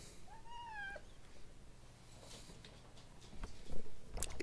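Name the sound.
cat meowing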